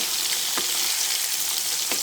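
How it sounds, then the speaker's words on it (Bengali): Hilsa fish pieces frying in hot oil after being flipped give a dense, loud, continuous sizzle close by, broken by a couple of soft utensil knocks. "একটা পাশ আমি উল্টে দিচ্ছি সবগুলো মাছ একসাথে উল্টে পাল্টে ভেজে নেব"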